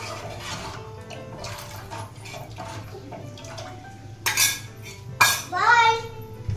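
A spoon stirs an over-salted sambar in a metal pot, with light scraping and clinks that build into louder bursts of clattering near the end, under faint background talk.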